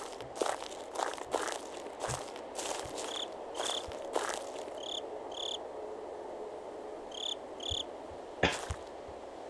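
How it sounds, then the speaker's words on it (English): Night crickets chirping in the horror game Slender, a soft continuous insect trill with short repeated chirp bursts, interrupted by crunchy footstep-like steps, with no talking. "Am I supposed to fight these crickets?"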